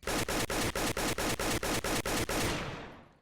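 AK assault rifle in the Roblox game Oretary firing a loud, close burst of about ten rapid shots in a steady rhythm, then fading out in a short ringing tail.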